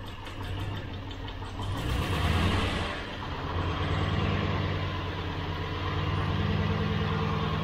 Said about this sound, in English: Very slight misfire just off idle.